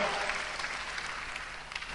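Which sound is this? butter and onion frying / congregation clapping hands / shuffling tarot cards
congregation clapping hands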